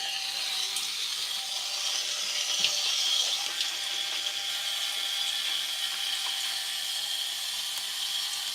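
Water is sprayed or squeezed onto a section of hair during a wash-and-go styling routine, a steady hissing, bright wash of sound lasting the whole stretch with a brief handling bump, no voices.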